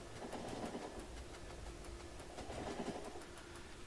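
A train in the game Factorio rolls steadily along its rails with a continuous mid-level rumble and repeating clickety-clack wheel clatter, heard alone without talk.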